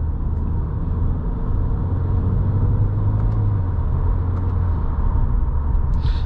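A 2023 Subaru WRX GT with the Subaru Performance Transmission is driven in Sport Plus and manual mode, its engine and road noise forming a loud, steady interior rumble with a low drone throughout.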